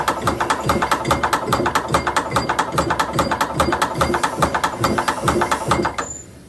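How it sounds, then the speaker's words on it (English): A hand-cranked cowboy leather punching machine feeding a leather strap gives a loud, steady run of rapid ratcheting clicks and clacks in close succession, stopping abruptly near the end. "when you do turn the strap, you want to turn the handle fairly hard or fairly briskly as it feeds the leather through the machine"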